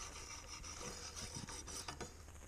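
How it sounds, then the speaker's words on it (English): Three-micron diamond paddles on a Wicked Edge sharpener stroke a knife blade in quick, quiet, rhythmic rasping passes, close and soft, with no voices. "I'm finishing up with the three micron diamond paddles now"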